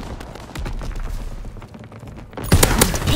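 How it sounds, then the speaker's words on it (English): Distant artillery and gunfire rumble in a World War II shooter, Call of Duty WWII, with scattered thuds and volleys, then a louder, nearer burst of impacts near the end. "Incoming enemy artillery."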